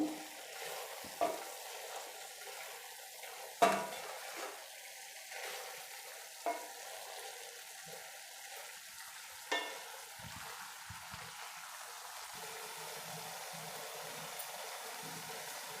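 Cauliflower gobi masala frying in an open pan, a faint, steady sizzling hiss broken by a few soft knocks from stirring, with no talking.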